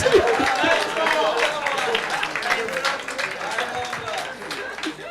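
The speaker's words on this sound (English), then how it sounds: "A round of applause, please." An audience at a realtors' gathering in Abuja breaks into applause, a few seconds of dense clapping and crowd noise mixed with voices, fairly close and steady before tapering.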